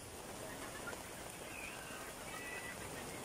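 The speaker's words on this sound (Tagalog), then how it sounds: "Umuulan today" Steady rain hiss in Boracay, a dense even patter with no breaks, fairly quiet and close, with no talking over it.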